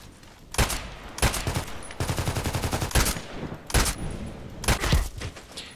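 TKPD Storm gun fired in a shooter game: a string of sharp, loud bursts, each a rapid rattle of shots, repeating every half second to a second in an uneven rhythm with no talking.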